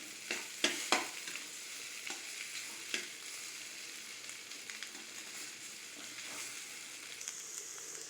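Potato masala stirred and fried in hot oil in a pan gives a faint, steady sizzle, with occasional soft scraping clicks from the spoon against the pan.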